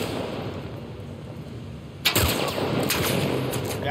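Gunfire in The Last of Us Part 1 starts halfway through after a quiet ambient stretch, a loud close burst followed by rapid repeated shots and rattling echoes.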